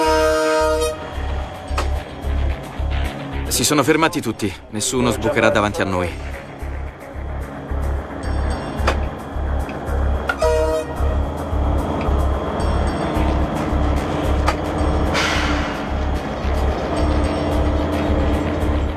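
A train horn blaring repeatedly at a level crossing from a milk freight train, loud and close over the rumble of the moving locomotive, with long sustained blasts and someone talking over it.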